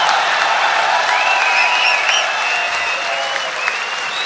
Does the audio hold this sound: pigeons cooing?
no